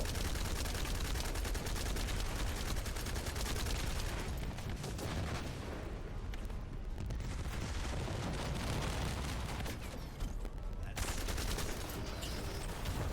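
Dense video game gunfire while shooting at bosses, a continuous rattling barrage with booming impacts that barely lets up, loud and chaotic, with a voice talking over part of it.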